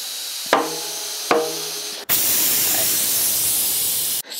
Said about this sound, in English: Air compressors are brilliant